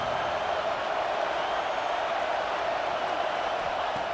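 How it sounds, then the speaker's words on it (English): A football stadium crowd roars during a red zone defensive stand, a dense, continuous wash of distant voices and noise that stays steady and moderately loud throughout. "here comes the noise. This crowd is trying to inspire this defense to make a big red zone stop"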